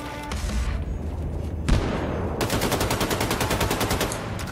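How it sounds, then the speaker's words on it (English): Gunfire and a grenade blast in the shooter game Wolfenstein II: The New Colossus, with scattered shots, a sharp boom, then a loud, rapid burst of automatic fire that rattles on without pause. "I just threw a grenade by accident"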